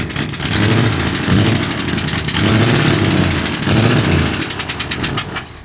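A loud, rough truck engine runs continuously with a rattling, sputtering pulse, its pitch wavering up and down, damaged after a crash.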